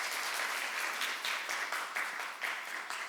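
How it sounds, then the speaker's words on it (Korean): A church congregation claps for the guest pastor after his sermon, a steady, dense round of applause that stays even and moderately loud throughout, with no voices over it. "박수를 환영해 주시기 바랍니다."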